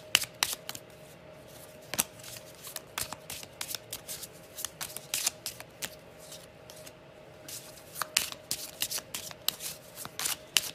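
Tarot cards are handled and laid out on a table, giving quick papery flicks, riffles and taps in irregular bursts, close and fairly quiet, with no speech.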